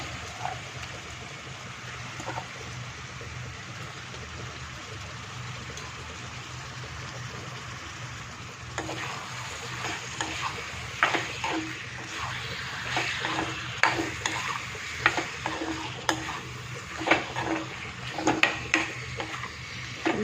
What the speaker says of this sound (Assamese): এতিয়া অলপ সময় এনেকৈ ভাজি মছলা আমি পাছত এড কৰিম